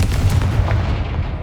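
A Confringo fire spell explosion in the video game Hogwarts Legacy, a single loud, deep, rumbling boom that fills the whole moment and fades slightly toward the end.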